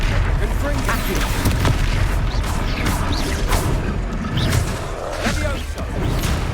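Spell blasts and magical impacts in the Hogwarts Legacy video game, loud booming crashes repeating over a dense, continuous battle din with game sound effects throughout.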